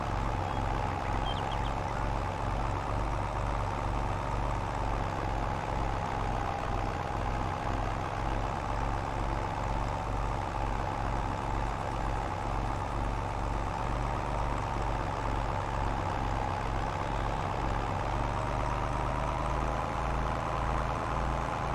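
A tractor engine in the farming video game Farming Simulator 22 runs steadily while pulling a baler, a continuous low droning hum with an even tone that holds without change throughout, loud and close with no talking.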